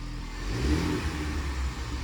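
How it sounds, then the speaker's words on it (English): Ford Bronco engine fitted with a Mishimoto high-mount intercooler and piping revs up under throttle, a loud, steady rumbling roar that swells and holds close by, with no talking. "All right, press on the gas."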